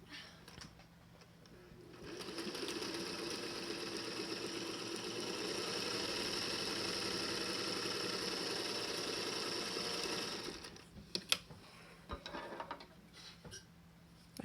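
Serger sewing the bottom edge of a DIY medical mask, a steady close whirring run for about eight seconds before stopping, followed by a few light clicks and handling sounds.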